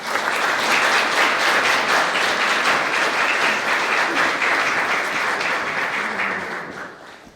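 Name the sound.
audience applause at wedding ceremony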